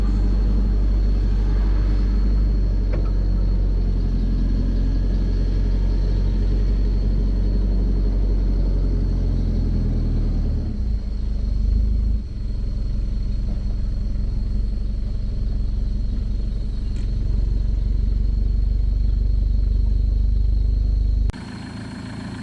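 A pickup truck in four-wheel low climbs a mountain road near a viewpoint in Chiang Rai, with a loud, steady engine drone and rumble heard from inside the cab that holds on continuously and then drops off abruptly near the end.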